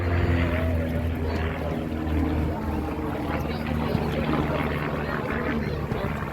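A propeller aircraft engine drones during an aerobatic barrel roll, its pitch shifting with the maneuver, heard from the ground at a middle distance with a continuous, fairly loud rumble.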